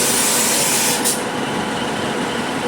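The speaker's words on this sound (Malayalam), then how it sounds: "ബ്ലാക്ക് പൂളിലേക്ക് പോകുന്ന ട്രെയിനാണ് കേട്ടോ. CAFൻ്റെ ആണ്." A CAF Class 331 train bound for Blackpool gives a loud, close, steady rumble with a sharp brief hiss, and no one speaks.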